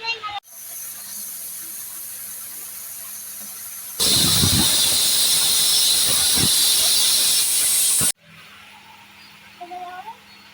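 A pressure cooker whistle: a loud, steady hiss of escaping steam blasts for several seconds, then cuts off abruptly; quieter kitchen background before and after.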